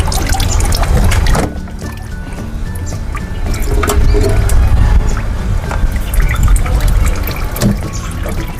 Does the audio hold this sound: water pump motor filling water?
yes